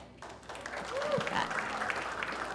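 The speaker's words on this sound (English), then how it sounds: "You know how I feel about clapping by now." A crowd at a startup event at Atlanta Tech Village claps and cheers in a steady wash of applause, with voices mixed in underneath.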